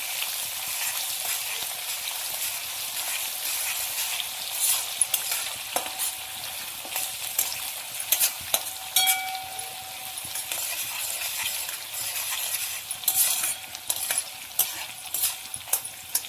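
Finely chopped onions frying until golden for veg biryani, a bright steady sizzle with occasional spoon clinks and scrapes against the pot, close up and without talk.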